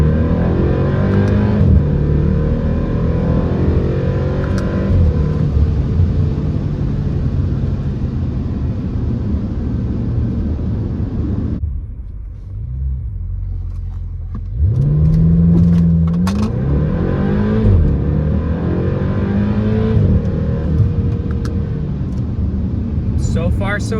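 A BMW X5M with the S63 V8 engine runs in sporty M mode, a steady loud engine drone that dips briefly and then climbs again in rising revs, with a voice talking over it at times.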